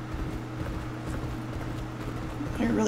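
Horse hooves gallop in the Champion Jockey G1 horse racing video game, a rapid rhythmic clatter under steady race noise, with a voice talking briefly near the end.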